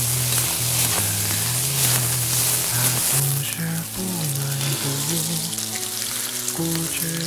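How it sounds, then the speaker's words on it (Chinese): Chives stir-fry in a wok with salt, giving a steady loud sizzle and crackle under a tuneful melody of background music, no voices heard. "盐，炒些韭菜"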